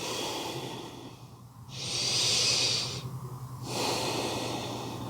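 Slow, deep breaths close to the mic during a yoga session, two long airy inhales with a quieter pause between, no talking.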